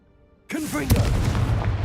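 A Confringo spell in Hogwarts Legacy goes off as a sudden booming blast after a quiet moment, followed by a rumbling, crackling tail with a sharp burst in the middle, loud and close.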